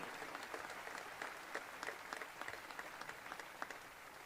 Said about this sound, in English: One more round of applause for Logan and Brienne